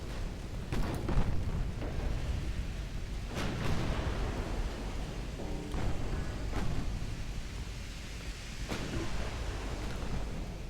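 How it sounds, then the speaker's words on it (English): Naval guns firing from the ship Valoroso in the game Ultimate Admiral Dreadnoughts, British 1900 campaign: several heavy booming blasts with long rumbling tails over a continuous roar like ocean surf. "There goes the guns on the Valoroso."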